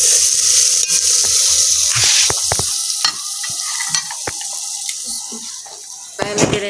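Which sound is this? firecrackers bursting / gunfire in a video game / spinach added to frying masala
spinach added to frying masala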